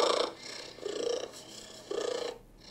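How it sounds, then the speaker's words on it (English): A domestic cat gives a solicitation purr with a slightly whiny, cry-like element, close and fairly soft, pulsing in three rising swells over the steady purring rumble. "So what I'm going to do is play you the solicitation purr from my own cat"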